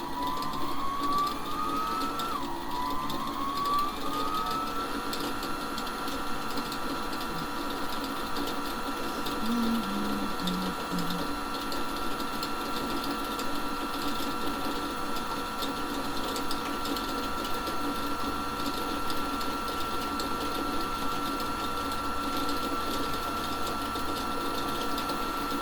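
A sewing machine winds a bobbin during quilt making, giving a steady, continuous mechanical whir and hum that runs unbroken and at an even level throughout.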